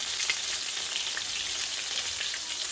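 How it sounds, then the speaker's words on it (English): Chicken wings frying in hot, spattering oil, a steady close hiss with fine crackling pops throughout and no voices. "Oil spewing all around."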